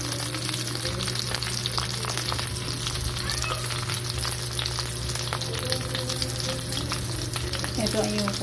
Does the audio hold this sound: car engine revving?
no